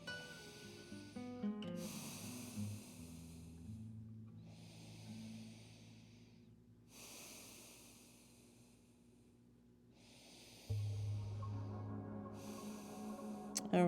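Slow, deep breathing during a yoga child's pose: three long, quiet breaths with soft airy inhales and exhales separated by brief silent pauses, close and faint.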